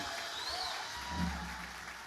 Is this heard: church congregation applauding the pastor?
yes